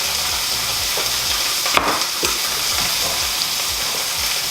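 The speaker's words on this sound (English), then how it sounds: "Now that's gonna get a nice sear on one side" Octopus searing in a hot pan, a loud continuous sizzle with crackling spatter, a couple of sharper stirring or scraping knocks near the middle, no voices.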